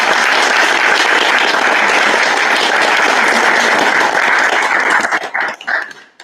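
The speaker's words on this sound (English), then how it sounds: "Let's give a round of applause for" A large audience claps in a dense, sustained round of applause at a talk on ethics in sensing, holding steady for several seconds before thinning into a few scattered claps.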